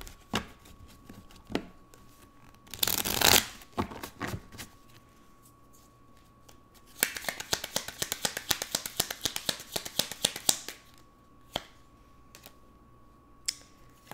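Tarot cards shuffled and pulled from a deck in a quiet room: a brief dense riffle burst, then a longer stretch of rapid crisp card flicks and taps, close and fairly quiet, with no talking.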